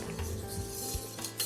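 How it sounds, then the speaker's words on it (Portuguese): Thick pastry cream for a Parisian flan being stirred in a pan, with a steady scraping and soft clinking of a utensil against the metal, close and continuous with no talk. "Então precisa mexer bem esse creme em todos os cantos, o fundo, a lateral, tudo"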